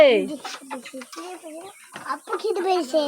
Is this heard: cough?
no